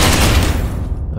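Loud rapid burst of gunfire in the Space Hulk Ascension video game, a dense close volley cutting off after about a second.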